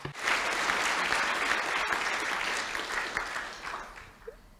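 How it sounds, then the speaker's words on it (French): A conference audience at a postal innovation forum breaks into dense, sustained applause from many hands, holding steady before thinning and fading out near the end. "Je vous demande de bien vouloir les applaudir."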